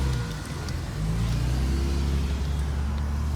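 An Acura TSX spins its wheels with the engine revving hard, a loud, close, steady roar with rising engine tones and no talk.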